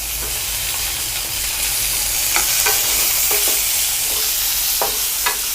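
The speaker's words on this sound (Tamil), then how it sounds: "இப்போ இது கூட வந்து நம்ம தக்காளி, கொஞ்சமாக அந்த சின்ன வெங்காயத்தையும் நம்ம போட்டு வதக்கிக்கலாம்." Tomato and small onions sautéing in a pan for sambar, a constant loud hissing sizzle close by, punctuated by occasional clinks and scrapes of a stirring spoon, with no one talking.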